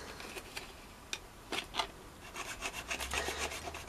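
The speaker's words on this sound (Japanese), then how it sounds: "ここの段差のところまで切ります。" A part from an Aoshima 1/24 FD3S RX-7 plastic model kit is cut by hand, producing soft rasping scrapes and small clicks that grow faster and denser toward the end.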